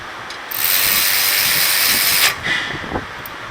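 A socket ratchet wrench runs down a brake bolt on a Ford Fusion during a front brake pad and rotor job, giving a close, steady buzzing clicks for about two seconds, then a few short ratchet bursts.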